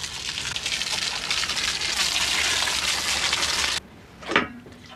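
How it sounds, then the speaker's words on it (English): Water gushes steadily onto a pile of pottery clay, a loud, close rushing hiss that stops abruptly, then a brief wet thud follows. "It must be thoroughly soaked with water."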